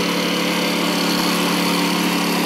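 A Honda EU2000i tri-fuel generator runs under load, its small engine holding a loud, steady high-pitched drone that stays even from start to finish with no voices.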